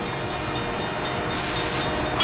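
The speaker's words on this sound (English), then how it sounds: "This driver can't think he can beat a train." A train approaching a rail crossing gives a steady, loud rolling rumble with broadband rail noise that holds throughout and swells slightly at the end.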